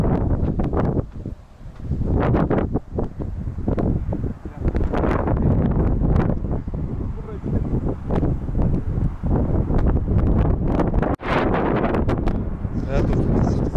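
Gusty outdoor wind buffeting an open microphone on a cold day in Krasnoyarsk, a dense low rumbling roar with surging bursts that runs throughout, with faint voices mixed in.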